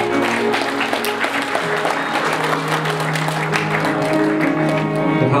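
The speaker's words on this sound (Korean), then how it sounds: "박수 부탁드리겠습니다" Wedding guests applaud during a candle-lighting ceremony, a continuous, moderately loud round of clapping from a crowd, with a sustained tonal musical background underneath.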